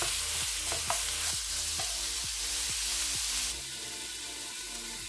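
Minced meat sears in a wok with a steady sizzle while a spatula scrapes and taps in an even rhythm for several strokes, then the stirring stops and the frying settles into a quieter hiss, close and without speech.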